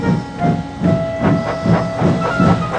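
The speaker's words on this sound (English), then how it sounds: "Thomas puffed on to the next line to let Frieda collect her trucks." A cartoon steam tank engine puffs steadily, with rhythmic bursts of chuffing steam about twice per second, loud and close, under a faint sustained whistle-like tone.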